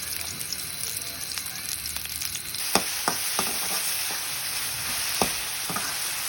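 Boiled chickpeas cooking in a pan, a steady close sizzle with a string of sharp spoon clinks and stirring scrapes against the pan.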